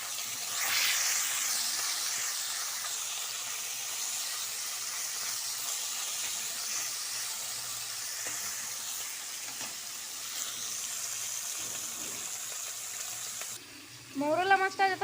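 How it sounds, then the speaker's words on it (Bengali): Small mourola fish fry in hot mustard oil with turmeric, a loud, continuous close-up sizzle and hiss lasting throughout, with a voice starting to speak near the end. "মৌরলা মাছটা যতক্ষণ ভাজা হচ্ছে"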